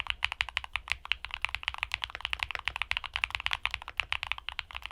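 Typing on a mechanical keyboard fitted with Wana Sakura creamy switches gives a quick, steady stream of soft, muted keystrokes, recorded close and clean with no voices.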